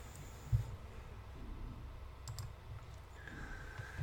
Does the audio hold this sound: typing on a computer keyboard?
yes